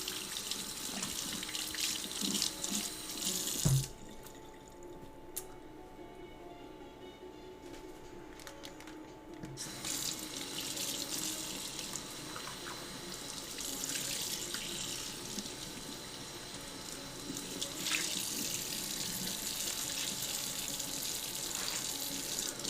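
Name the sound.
water running from a kitchen tap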